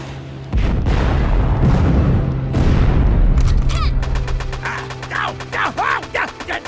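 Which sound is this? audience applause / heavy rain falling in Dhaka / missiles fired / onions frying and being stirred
missiles fired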